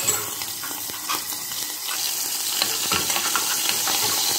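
Chicken gizzards hit a hot pot while pigeons are being prepared for rice stuffing, giving a steady, close sizzle and frying crackle with occasional stirring scrapes, no voices over it.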